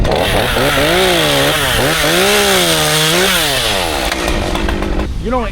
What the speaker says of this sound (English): If you hear the chainsaw running up here, look for it, basically.